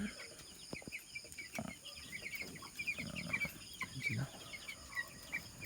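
45-day-old chickens clucking and chirping softly in a coop, scattered calls over a low background hum, fairly quiet and close.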